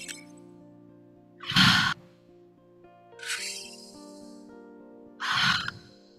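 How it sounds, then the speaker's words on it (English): Deep breaths in and out through the mouth during a somatic breathwork session, three loud, airy, breathy rushes spaced a couple of seconds apart over soft, steady background music. "we are going to breathe in through the mouth and out through the mouth"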